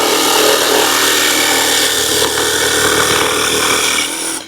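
A WORX Axis jigsaw cuts through material up close, a loud continuous buzzing saw whine with its built-in fan blowing shavings clear, holding steady before cutting off abruptly at the end.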